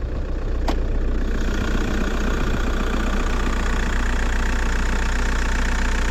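A VW Bora 1.9 TDI diesel engine idling close by, a steady low rumbling drone with an even mechanical throb, unchanging throughout.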